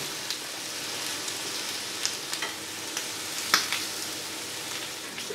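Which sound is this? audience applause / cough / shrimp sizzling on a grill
shrimp sizzling on a grill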